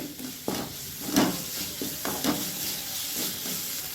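Cabbage being sautéed over high heat in a pan, with a steady sizzle and scraping stir strokes that come roughly every second, close and at moderate loudness, with no voices.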